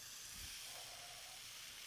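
A steak sizzles as it sears in a hot Dura-Pan, producing a faint, steady, hissing sizzle with a soft thump near the start.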